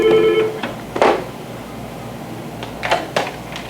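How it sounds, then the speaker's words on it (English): Telephone ringing in a classroom setting, a steady electronic tone opening the clip followed by two short bursts of ringing later on, moderately loud over a faint background hum. "I'm going to see if I can get the phone to work"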